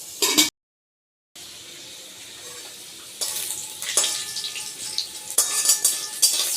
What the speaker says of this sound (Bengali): আমি সাদা আর বাটার একসাথে দিয়ে আমি ভেজে নিচ্ছি